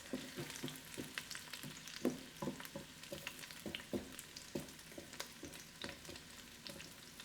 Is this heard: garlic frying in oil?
yes